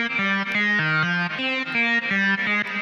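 Synth riff playing in Ableton as the main riff, a bright buzzy lead stepping through a repeating pattern of short notes at a steady tempo, loud and unbroken with no voices.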